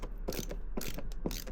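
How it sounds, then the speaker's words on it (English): A self-tapping screw turns out of a car panel, heard as close, quiet ratcheting clicks and creaks from a tool in a short, uneven series. "So, we'll get that self-tapper out of there."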